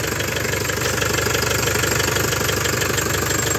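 Iveco truck engine idling, a loud, steady diesel rumble with a fast, even knocking pulse that continues unchanged throughout, heard up close with no talking.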